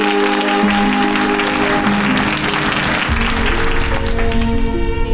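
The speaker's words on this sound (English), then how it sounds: "A big round of applause for Som Sharma." Applause for Som Sharma as he is called up on stage, a dense crowd clapping that carries steadily over background music, loud and sustained throughout.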